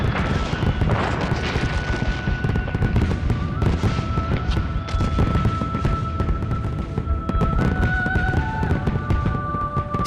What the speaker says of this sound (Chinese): 盛大的烟花总是点亮城市的夜空